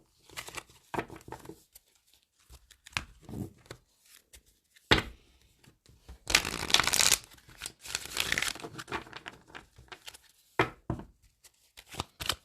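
Tarot cards shuffled by hand, heard as quick crisp riffles and soft patters in irregular bursts, fairly close and quiet, with a louder flurry in the middle.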